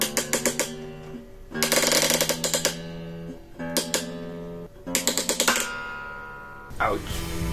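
A 3D-printed guitar tuner gear under steel-string tension gives off rapid, close mechanical clicking in several separate bursts, like a ratchet being wound, then a sharper, different crack near the end as the printed gear gives way.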